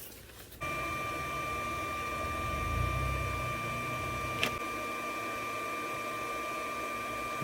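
A Solary induction bolt heater is plugged in and switches on with a sudden steady electronic whine and buzz that holds constant, with a brief sharp click partway through, heard close up with no talking.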